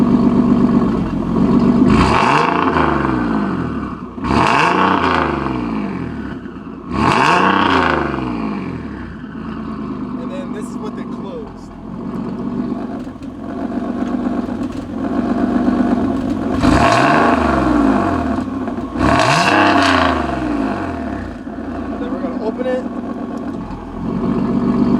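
A car engine with GT Haas valve-controlled exhaust valves open revs repeatedly, several sharp rising blips that fall back to a rumbling idle between them. The exhaust sounds loud and close.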